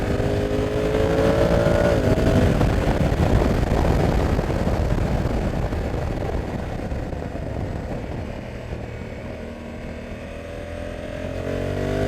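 Engine of a Honda Africa Twin Adventure Sports DCT motorcycle, close and loud, its note rising as the throttle opens and then easing back to a steady rumble, with no talking over it.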